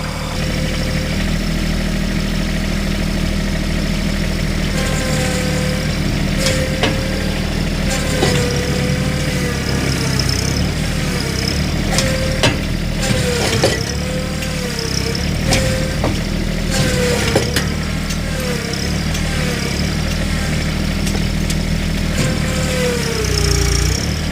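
A vehicle engine labours steadily while trying to tow a trailer fitted with a Fort Knox wheel lock, with a loud continuous drone and a rising, strained rumble throughout.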